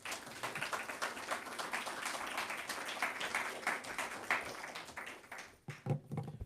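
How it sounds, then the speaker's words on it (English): An audience at a community lecture in New Orleans claps in a sustained round of applause, dense and steady, then thins out into scattered claps as it dies down. "Let's welcome our brother who's going to take us further into our program with a round of applause, Brother Lawrence Muhammad."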